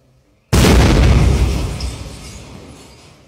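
An explosion blowing open an ATM during a bank-machine robbery in São Gonçalo do Sapucaí, Brazil: after a brief hush, one sudden, very loud blast, followed by a long rumbling decay that fades over a few seconds.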